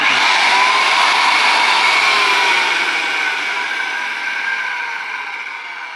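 A Bosch PKS 55 circular saw runs at steady high speed, a loud continuous whine that holds for the whole stretch and eases slightly toward the end, with no voices.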